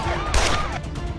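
Gunfire erupts during a tense Filipino drama scene, a sharp crack-like burst standing out against a loud, busy background of shouting and commotion.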